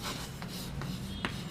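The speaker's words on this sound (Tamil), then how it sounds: "இப்போ பாருங்களேன், நான் ஒரு சென்டென்ஸ் எழுதுகிறேன்." A pen or pencil writes a sentence on paper, heard as faint, scratchy strokes over low background hum, with a few brief, sharper marks spaced irregularly.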